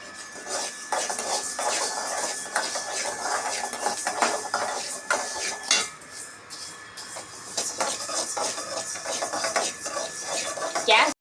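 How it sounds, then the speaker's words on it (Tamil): Grains and nuts roasting in a pan for a multigrain health-mix flour, stirred continuously with scraping, rattling strokes up close, without a pause for most of the stretch. "கொஞ்சமாக கிண்டுங்க"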